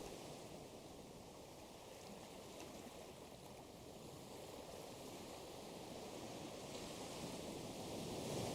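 Ocean waves by a seaside bench, a soft, continuous wash of surf that stays faint and even throughout and swells slightly toward the end, with no voices.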